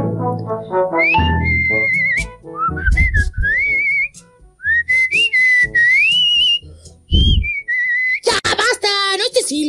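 A person whistles a wandering, sliding tune in clear high notes, broken by short pauses and bursts of other voices and noise.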